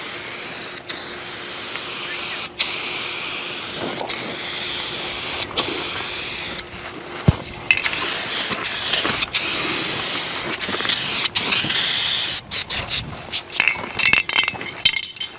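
Spray paint cans hiss in long bursts over a muscle car in a budget paint job, touching up bumpers and the trunk, with clinks and handling noises between sprays, close and loud.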